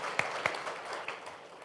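A woman clapping, with a few sharp, separate claps spaced irregularly over a soft background of room noise, no voices.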